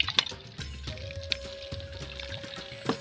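Water splashes and gurgles as it pours in uneven spurts from a village hand pump, with rhythmic creaks and clanks from the pump handle, fairly close and quiet.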